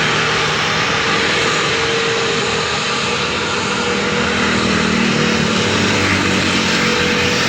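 A Cebu Pacific airliner about to take off, its engines producing a loud, steady broadband roar that holds unbroken throughout, with no talk over it.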